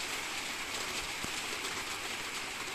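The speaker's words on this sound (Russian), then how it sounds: "Дождик усиливается." Steady rain hissing evenly throughout, a dense continuous patter with no voices.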